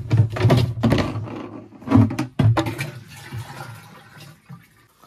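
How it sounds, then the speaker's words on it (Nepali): Water is poured onto dried-out plant cuttings in a greenhouse, giving gushing, splashing bursts that swell, pause and then trail off into fainter trickles. "अब पानी हालिहाल्छु म."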